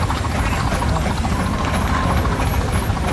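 A 1917 Advance Rumley 20 horsepower engine runs at a threshing show in Edgerton, Wisconsin, giving a dense, continuous low rumbling drone with steady mechanical chatter, loud and close.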